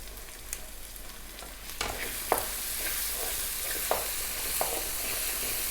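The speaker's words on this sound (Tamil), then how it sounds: "வெங்காயம் நல்லா வதங்கிடுச்சு" Onions sautéing in a pan with green chillies while cooking an egg thokku, giving a steady, close sizzle with occasional stirring clicks and no speech.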